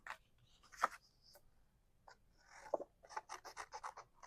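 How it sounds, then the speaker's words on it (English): Quiet, close snips and crisp scraping as scissors cut a paper crown, a few separate cuts followed by a quick run of short snips. "I'm going to start cutting out my crown with my scissors"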